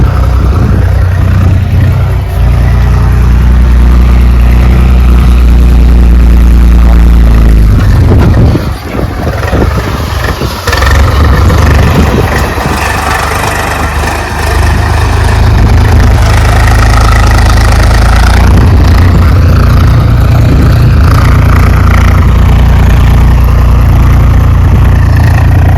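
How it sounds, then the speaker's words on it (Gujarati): A tractor's engine runs loudly and close with a heavy low rumble, dipping briefly midway before settling back into a steady idle-like drone. "ટ્રેક્ટર લઈને આવ્યા"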